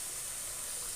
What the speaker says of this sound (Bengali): অনেকটা পরিমাণ আমি জল যোগ করে নিলাম